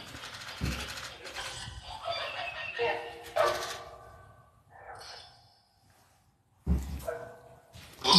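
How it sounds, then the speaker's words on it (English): A dog near an abandoned farmhouse in Scotland gives a few sharp, spaced barks, with breathing and quiet rustling heard in the gaps between them. "Hear the dog."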